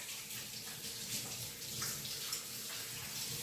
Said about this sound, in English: So I'm just rinsing my ribs off.